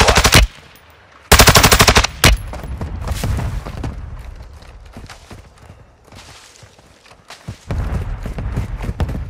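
Machine gun fire in a multiplayer shooter video game, with loud close bursts of rapid automatic shots separated by quieter stretches of game noise.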